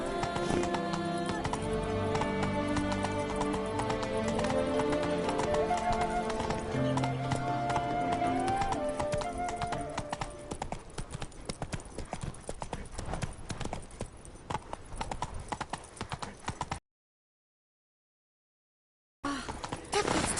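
Rhythmic clip-clop of a horse galloping in The Witcher 3, hoofbeats steady and close under a bed of game music, which cuts out briefly near the end.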